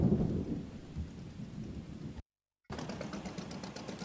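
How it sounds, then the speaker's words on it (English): Thunderstorm in a Barents Sea fishing game: steady rain hiss with low rumbling thunder rolls, a brief dropout of silence midway, then heavy rain resumes with no speech. "it's stormy today, very stormy."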